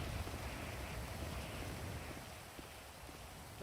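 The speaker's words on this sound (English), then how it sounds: "Why is it raining right now?" Steady, hissing rainfall keeps up a dense patter throughout, fading slightly toward the end with no voices over it.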